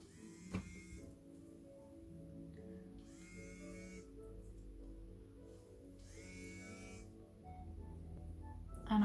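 A Lifting Intense electric face-lifting device runs on its Nutri program. It gives a quiet, low electronic buzz with higher tones that pulse on and off in a regular cycle every few seconds.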